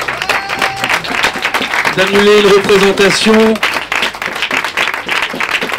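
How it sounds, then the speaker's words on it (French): Applause at a theatre strike rally at L'Escapade in Hénin-Beaumont, a steady crowd clapping that continues beneath a person speaking through the middle. "on peut encore s'applaudir"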